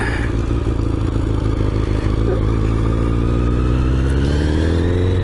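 A 1988 Honda CBR1000F motorcycle rides through a puddle, its engine loud and close with a steady throaty drone and rising revs as it pulls away, along with some wet clatter.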